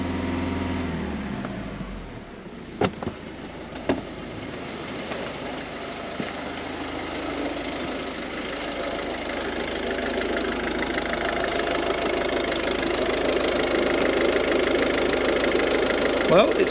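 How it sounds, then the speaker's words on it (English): A Ford Focus Mk3 TDCi diesel engine idles steadily with a low, rumbling chug, joined by a couple of brief knocks early on, continuous and fairly close. "I'm going to keep the engine running"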